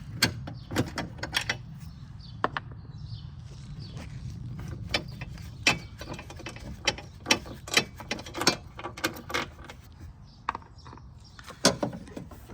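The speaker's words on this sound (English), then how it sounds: "I already started taking the bolts loose. I already got started." A ratchet fitted with a 13 mm socket works on the battery bolts of a Cadillac Escalade, making scattered clicks, metallic taps and clanks at close range over a low background hum.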